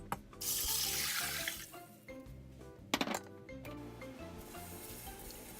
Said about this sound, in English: Add 1 liter of water to the pot with red beans.